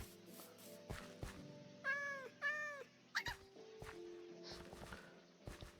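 Cat meowing in the video game Minecraft, two short close mews followed by a quicker chirp, set against a busy bed of game clicks, thumps and ambient noise.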